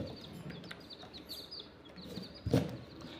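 Chicks chirp in short, high peeps from inside their pen, fairly faint and scattered, with a brief louder thump near the end.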